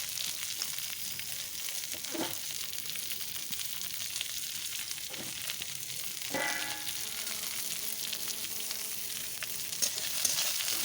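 Whole cumin seeds and chopped onions frying in a pan for a chana dal with bottle gourd, giving a steady close sizzle with a few sharp crackles and stirring scrapes.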